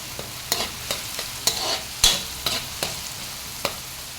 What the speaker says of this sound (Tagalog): Hayaan muna natin mag-brown-brown ng konti ang bawang at maluto ang sibuyas.